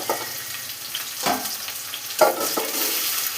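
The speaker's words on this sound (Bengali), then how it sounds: "এবার দিলাম পেঁয়াজ কুচো করে, পেঁয়াজ করছি পেঁয়াজ কুচা করে" Chopped onion fries in hot oil with cumin seeds and bay leaves. A steady, loud sizzle is broken by a few louder bursts as the pan is stirred.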